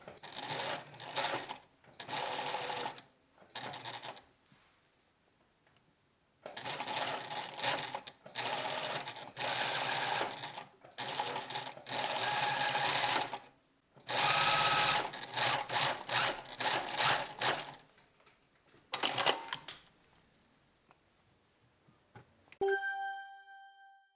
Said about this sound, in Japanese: まずは普通に縫ってみます。